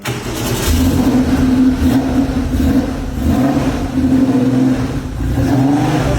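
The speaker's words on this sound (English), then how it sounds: "So we're getting the engine started." A Porsche 964 RS at a Japanese auction starts up and revs, loud and close, with the engine swelling through several throttle blips over a rumbling idle.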